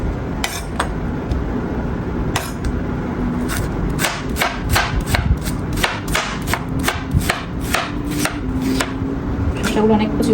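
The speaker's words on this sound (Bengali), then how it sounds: "শশাগুলো অনেক কুচি কুচি করে কাটলাম।" Cucumbers being finely chopped with a knife on a board for jhal muri in a home kitchen, a rapid, steady run of crisp, close knife taps with brief pauses, alone without talk.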